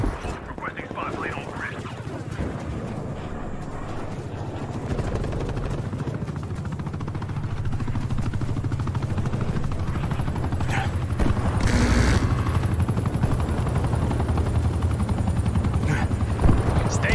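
Call of Duty Cold War team deathmatch gameplay with a spy plane overhead: a steady low aircraft drone runs throughout, swelling slightly, with gunfire bursts and a voice speaking over it.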